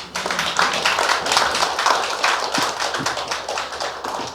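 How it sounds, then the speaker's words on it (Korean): An audience at a launch ceremony for a committee preparing the 100th anniversary of the Gwangju Student Independence Movement breaks into steady, close applause, a dense patter of claps lasting several seconds. "박수 한 번만 보내주시기 바랍니다."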